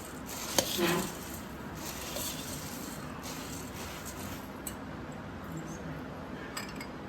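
Bhel puri being mixed with munta masala, a soft continuous rustle and scrape of stirring with a few light clinks, steady and close with no talk.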